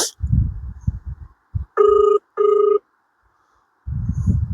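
A phone line rings out during a prank call in a pair of loud electronic ring bursts with a short gap between them, preceded and followed by people talking.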